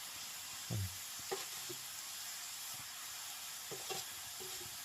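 Onions browning in a pan over a traditional wood fire in a village kitchen make a faint, soft sizzle, with a few scattered stirring scrapes and knocks.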